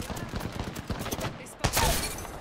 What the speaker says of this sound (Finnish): Mua ammutaan sitä vieressä.